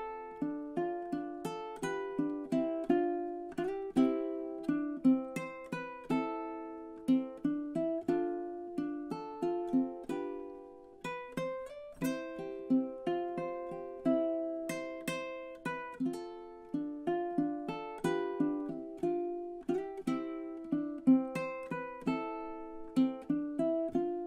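Fingerstyle ukulele plays the tune Carrickfergus: four strings plucked together so the notes ring out in a gentle, flowing melody of steady plucked chords and single notes, heard up close and alone for over twenty seconds.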